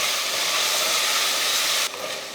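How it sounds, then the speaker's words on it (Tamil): Masala with chili powder and biryani spice sautéing in a hot pan for egg biryani, a steady loud sizzle and hiss that drops abruptly near the end, no voices. "மசாலாலாம் போட்டு நல்லா வதக்கியாச்சு"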